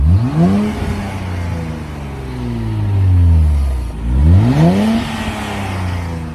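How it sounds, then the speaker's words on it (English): The VQ V6 of a 2023 Nissan Z revs twice while stationary, nearby and loud. Each blip sweeps up sharply and falls back to a smooth idle. "You VQ guys, you know that sound, and it's not bad."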